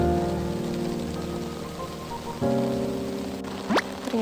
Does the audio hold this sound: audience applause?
no